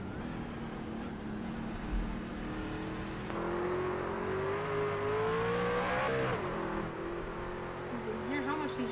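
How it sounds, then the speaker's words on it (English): Onboard a race car on a short circuit, the engine revs hard out of the corners, climbing and falling in pitch through several shifts. The drone is steady and moderately loud, with faint commentary running underneath. "You can hear how much these drivers are really having to get up on the RPMs out of these corners."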